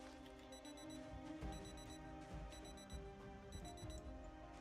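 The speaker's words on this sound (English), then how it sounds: "Okay, so now another watch alarm is going off." A digital watch alarm in the video game Project Zomboid beeps in four evenly spaced bursts of rapid high chirps, sitting quietly over a low background hum with no speech.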